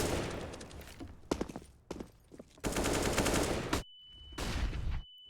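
Gunfire in CS:GO on the Mirage map during a FURIA versus Natus Vincere DreamHack Masters match, heard as dense bursts of rapid automatic shots broken by brief pauses, fairly loud and continuous.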